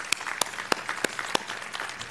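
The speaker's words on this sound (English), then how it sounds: "Nice round of applause for all." Scattered, thin clapping from an awards ceremony audience, a few distinct sharp claps standing out over a soft, sparse patter for a couple of seconds.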